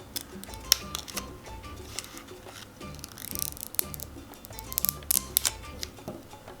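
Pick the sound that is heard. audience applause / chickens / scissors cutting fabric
scissors cutting fabric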